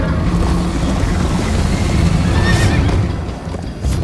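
A horse neighs and hooves clip-clop at a gallop in Minecraft: Story Mode, with a loud whinny rising over a constant rumbling backdrop of movement and no voices.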